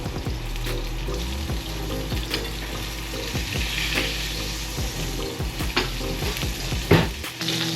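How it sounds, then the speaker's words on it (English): A fish fillet sears skin side down in a hot oiled pan, producing a continuous loud sizzle with crackles and repeated low thumps and scrapes from the pan, with no voices. "you put it down skin side first, and you get that nice sear on the fish"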